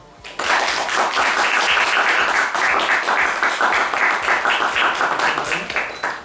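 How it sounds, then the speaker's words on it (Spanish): Loud, steady applause from an audience at a James Bond fan gathering's comedy contest prize-giving, a dense wash of many hands clapping that starts abruptly and holds for about six seconds. "Un aplauso."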